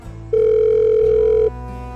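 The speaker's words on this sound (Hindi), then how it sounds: "अपना फोन निकाला और मुखिया जी को फोन लगाने लगा" A single steady electronic ringing tone on a phone while calling someone, lasting just over a second against a soft background of music.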